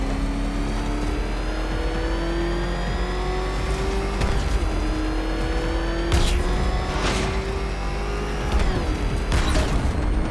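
Car engine in a Batman video game driving sequence, a steady high drone with gradually rising pitch, rough revving surges and brief mechanical clanks, loud and continuous with no talk.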